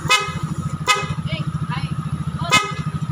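Dual horn on a Yamaha Aerox 155 scooter, triggered by tapping a touch sensor, sounds in three short loud honks spaced across the moment, over a steady idling engine hum and someone talking.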